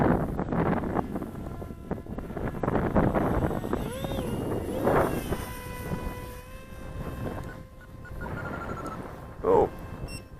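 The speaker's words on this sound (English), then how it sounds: "it's a bit windy out there today" Steady wind buffeting a microphone outdoors during a model aircraft flight, a rough continuous rumble with gusts, alone without speech.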